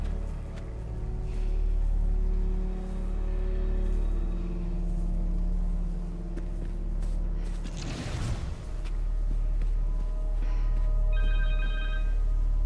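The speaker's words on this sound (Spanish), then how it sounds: "Un teléfono." A telephone rings in Marvel's Spider-Man 2, with a short burst of bright ringing tones near the end over a steady, low game soundtrack and ambience.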